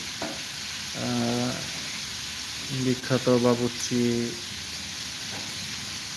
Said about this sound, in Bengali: রান্না হচ্ছে এখন মুরগি ভাজা চলছে